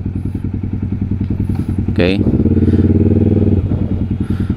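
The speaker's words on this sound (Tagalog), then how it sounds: "triple cylinder din yung makina nung bike na yun." A Triumph Daytona 675 three-cylinder motorcycle engine idles with a steady pulsing beat, then blips louder in a quick rev and holds a raised drone, close by, with a brief spoken word over it.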